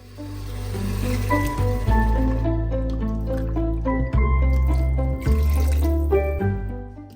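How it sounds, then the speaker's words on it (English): Boiled chickpea cooking water is poured into a pot of spinach chickpea pulao, giving a continuous splashing, filling pour with soft gurgles beneath steady background music. "stir everything together and add water"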